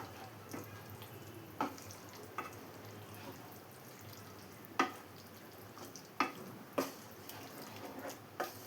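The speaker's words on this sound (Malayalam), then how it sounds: "ഇനി ഇതെല്ലാം കൂടി ഒന്നുകൂടെ ഒന്ന് മിക്സ് ചെയ്ത് കൊടുക്കാം." Squid roast being stirred with thick coconut milk in a pan: soft, wet swishing and a gentle simmer, broken by a few sharp knocks of the spoon against the pan, with no one talking.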